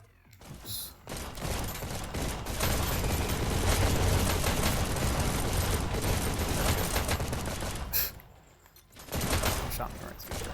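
Sustained automatic gunfire in the VR arena shooter Hyper Dash runs as a loud, continuous rattle for several seconds, breaks off, then resumes, with a player's voice heard over it.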